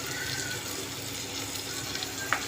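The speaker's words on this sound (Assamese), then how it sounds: "এইখিনি মই ভালদৰে ভাজি লওঁ।" Eggs with salt, turmeric and cumin powder fry in a pan for egg biryani, giving a steady, moderately quiet sizzle with no speech over it.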